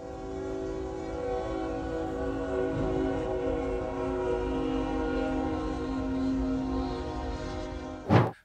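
A Union Pacific train rumbles past close by at a railroad crossing in Forney, Texas, its horn sounding with sustained tones over the rolling clatter of the cars, ending in a sharp burst as it strikes a vehicle.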